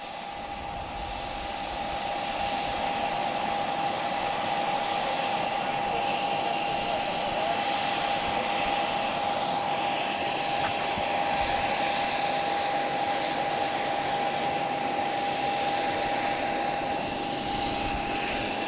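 Live Spitfire propeller plane at a Portugal airshow holds a steady engine drone at moderate volume with a faint whine. It builds over the first couple of seconds, then stays even and continuous.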